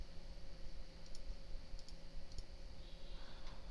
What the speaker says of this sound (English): Just click on this.